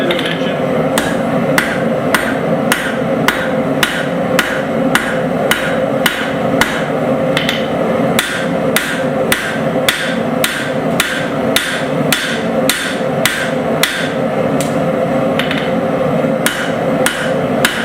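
Steady, rapid hammer blows strike a hot steel billet on an anvil, forging an iron and steel san mai bar to dimension; the regular ringing strikes continue throughout, loud and close, over a constant forge roar.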